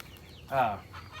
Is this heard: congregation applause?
no